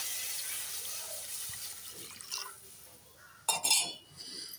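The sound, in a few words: water poured into a pot on the stove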